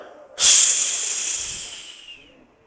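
A voice imitates a pressure cooker's hiss: one sharp, loud breathy hiss that starts suddenly and slowly fades over about two seconds.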